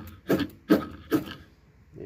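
A high-speed striker scrapes down a ferro rod to throw sparks, three sharp rasping strokes in quick succession and a fainter fourth, close and loud against a quiet outdoor background.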